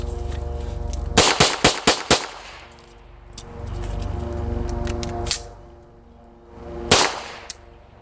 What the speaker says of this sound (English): 5-round bill drill, and a speed reload, okay?